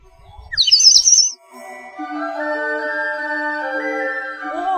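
A burst of high, bright bird chirps, then a sustained whistled tone with gliding notes, close and clear against silence.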